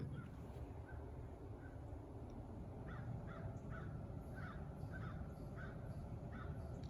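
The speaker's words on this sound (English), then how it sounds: "You can hear the birds." Crows caw repeatedly in short bursts in a backyard garden against a steady outdoor background hum, fairly distant and moderately loud.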